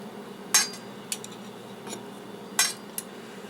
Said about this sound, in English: So I'm going to use 2 spoons.